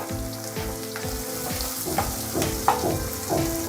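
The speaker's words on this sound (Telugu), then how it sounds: "ఉల్లిపాయలు మగ్గుతున్నాయి కదా" Onions fry in a pan for a prawn and raw mango curry with a steady close sizzle, with a stirring clatter and small pops in the latter half and a faint tonal hum underneath, no talking.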